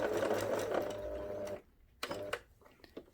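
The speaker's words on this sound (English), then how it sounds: "put the presser foot back down and continue to sew" A sewing machine stitches fabric for a teddy bear, a fast rattling run for about a second and a half, then a pause and a few short bursts of stitching, close and fairly quiet.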